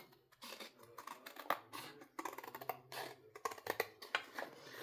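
Scissors cut a piece of recycled material close up in a rapid run of crisp snips and crunches, with a few brief pauses between strokes.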